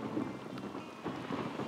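Rumbling thunder from lightning in the video game Glover, a steady low roar with rain-like hiss and a couple of swelling rolls, no talk.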